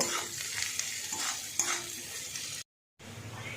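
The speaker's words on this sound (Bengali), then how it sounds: "পেঁয়াজ ভাজা ভাজা হয়ে গিয়েছে" Chopped onions fry in oil in a pan with a continuous sizzle and periodic stirring scrapes, close and soft, cut off by a brief silent gap before the sizzle resumes.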